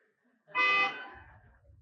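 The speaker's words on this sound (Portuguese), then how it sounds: "Eles buzinam só para poder avisar." A single car horn honks once, a clear, loud toot of under half a second that fades out into a low rumble, no talking.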